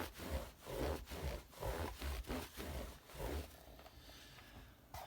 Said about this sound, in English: just give it a rub down. This is a final kind of buff.